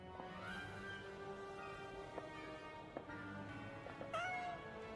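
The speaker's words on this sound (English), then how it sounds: "I keep hearing the cat." A cat meows several times inside the video game Scanner Sombre, with a rising call early on and another near the end over a steady ambient drone.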